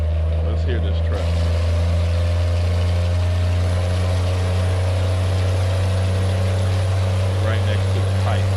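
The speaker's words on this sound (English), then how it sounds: "Let's hear this truck." Peterbilt 389 truck with a Cummins M11 engine running, a steady low droning rumble held close and loud throughout, with a brief higher noise early on and faint sounds over the top.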